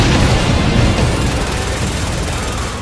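Explosions in the PS3 vehicular combat game Twisted Metal: a dense, continuous roar of blasts and rumbling destruction, loud and unbroken throughout.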